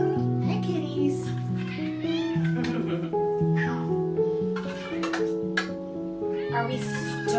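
Several hungry house cats meow insistently in the morning, their overlapping cries rising and falling close by, with a person talking over them.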